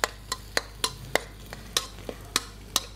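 Stink beans frying for nasi goreng at an Indonesian street food stall give a steady soft sizzle, broken by about a dozen regular sharp taps of a spatula stirring in the pan, close by and with no talking.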